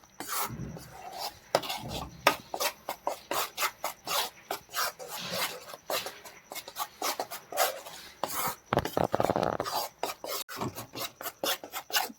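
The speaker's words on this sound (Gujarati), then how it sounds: "આવી રીતે આપણે સતત હલાવતા રહી અને શેકી લઈશું" Gram flour roasting in a pan, stirred constantly with a spoon that gives rapid repeated rasping scrapes against the metal, close up and steady, with no talking.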